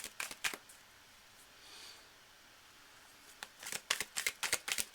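Tarot cards riffled and shuffled by hand in bursts of crisp flapping snaps, with a lull in the middle before a quick run of rapid, close card slaps.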